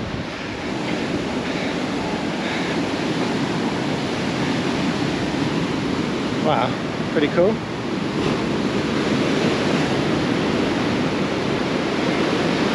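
Rough Atlantic waves crash and surge at the entrance of a deep sea cave on the wild, rugged west coast of Fuerteventura, a steady loud roar under wind buffeting, with a brief spoken remark partway through.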